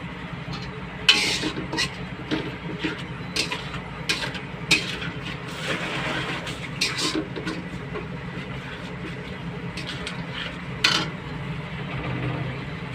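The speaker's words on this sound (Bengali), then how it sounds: "মশলা দিয়ে দিছি এখন পরিমাণ মতো কষাবো" Spices sauté in a pan aboard a ship, a low steady sizzle with repeated sharp clanks and scrapes of a spoon against the pan over several seconds, no voices.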